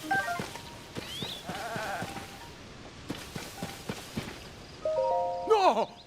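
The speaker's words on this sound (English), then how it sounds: "These are my white goats." White goats bleating in the video game Zelda: Tears of the Kingdom, several short wavering calls mixed with game sounds, footsteps and background music, with a louder cluster of bleats near the end.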